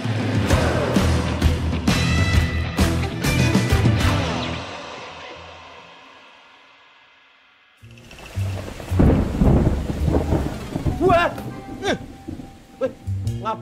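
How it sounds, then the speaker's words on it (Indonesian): Heavy rain pours and thunder rumbles loudly, fading away to near silence before a fresh burst of rain and crackling thunder returns. "Sekarang tuh lagi musim hujan, hujan melulu Vincent."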